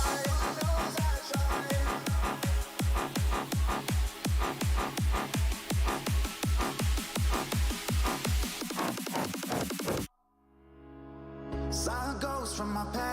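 Extended mix of an electronic track plays loud and steady, a driving beat with regular punchy hits for about ten seconds, then cuts abruptly into a brief quieter tonal tail.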